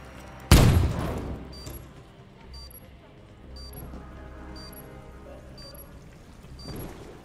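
A single sharp, loud gunshot cracks near the start in a Call of Duty-style search-and-destroy match on the Pines map, then fades into quieter game ambience with faint chirping cues, and a softer burst follows near the end.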